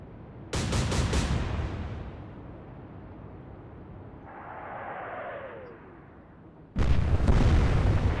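Naval guns fire in the video game Atlantic Fleet: a loud booming salvo opens, then a long rumbling decay and a whooshing shell, and a second heavy blast erupts at the end.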